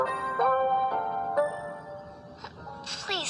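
Doorbell chimes at a house door, several ringing tones that sustain and decay in sequence, fairly close, ending in a brighter jingling flourish.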